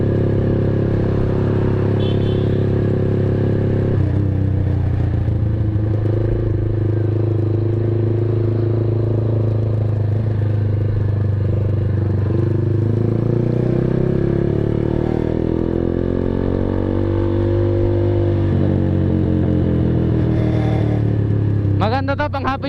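Kawasaki Z200 motorcycle with an SC Project exhaust is ridden slowly around 30 km/h, its steady deep exhaust burble rising and falling with throttle over more than twenty seconds and loud throughout, with a rider speaking over it at times.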